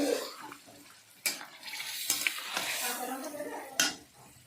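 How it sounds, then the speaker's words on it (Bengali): Mutton is fried and stirred in spices in a pan, a quiet sizzle broken by a few sharp spoon knocks and scrapes against the metal, heard close with no speech. "এবার মাংসটা ঢেলে দিয়েছি খুব ভালো করে আমি একটা টাইম নিয়ে কষে নেবো এটাকে"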